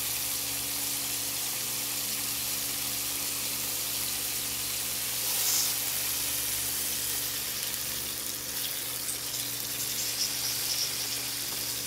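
Veal breast sears in a hot pan with a loud, continuous sizzle and crackle, steady throughout with a low hum beneath and brief spits of fat, no voices over it.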